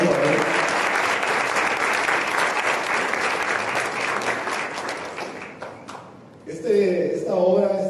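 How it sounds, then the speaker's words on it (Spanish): An audience at a book presentation gives a long round of steady applause for Edgar Castro Zapata, which tapers off before a speaker's voice returns near the end. "Edgar, gracias. Un aplauso para él."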